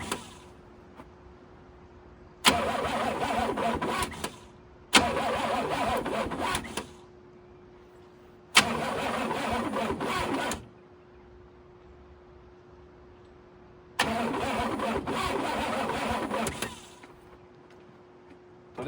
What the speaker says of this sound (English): We know that it's gonna, the motor's turning.